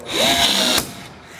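A pneumatic rivet gun pulls a rivet mandrel in aircraft wing skin, giving one short, loud whirring burst with a rising pitch that stops abruptly, leaving a faint hiss.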